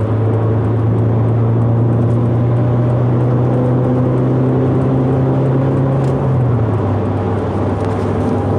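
Saab running with its muffler deleted, downshifted on the highway and given half throttle: a continuous loud engine drone that holds a steady pitch, then dips as the revs change, over constant road roar, no voices.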